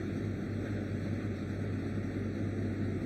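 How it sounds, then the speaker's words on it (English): ARCA Menards Series East race cars idling on the grid before the Dutch Boy 150, a steady low engine rumble with broadband roar, continuous and fairly loud, no voices. "Engines fired just a couple of moments ago."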